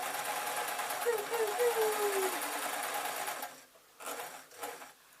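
A sewing machine runs steadily for about three and a half seconds while stitching a pillow case or blouse, then stops; a couple of brief, quieter bursts of stitching follow as it is restarted.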